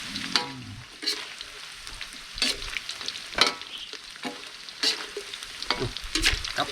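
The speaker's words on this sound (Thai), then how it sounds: "ทอดสมุนไพรครับ" Garlic, shallots, chili and kaffir lime leaves fry in hot oil with a steady sizzle, broken by repeated scraping stirs of a spatula at an uneven rhythm, close and moderately loud with no talking.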